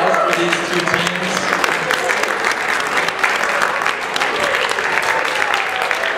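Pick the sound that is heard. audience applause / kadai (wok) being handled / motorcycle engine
audience applause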